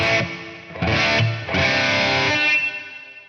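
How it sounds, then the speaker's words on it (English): Electric guitar through a modeling amp's reverb, a few distorted chords struck in quick succession, each ringing out with a bright, shimmering reverb tail that fades toward the end. "You can hear that reverb tail has much more high frequency to it."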